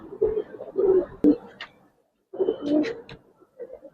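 A pair of black pigeons cooing close by, throaty rolling coos in short bursts with a pause midway and a softer coo at the end.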